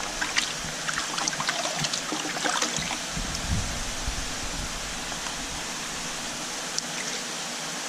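Water running steadily into a 120-gallon unfiltered fish hospital tank, a continuous close trickling and splashing flow with no talking.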